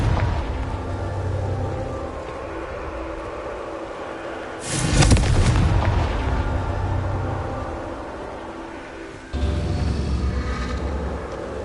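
A Confringo fire spell bursts in Hogwarts Legacy with a sudden loud broadband blast near the middle, then a rumbling decay that trails off under steady game ambience, with a second swell of noise near the end.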